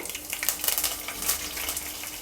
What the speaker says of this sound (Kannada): ಎಣ್ಣೆ ಕಾದಿದೆ ಸಾಸಿವೆ ಹಾಕ್ತಾಯಿದ್ದೀನಿ